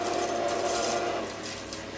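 A JBL solar-powered automatic fish feeder dispenses food with a steady grinding, rasping mechanical whir that stays loud and even for about two seconds, with no speech.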